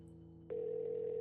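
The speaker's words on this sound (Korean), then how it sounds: "전화가 가는 소리를 들으면서" A phone ringback tone holds one steady note after a quiet start, close and clear with nothing else heard.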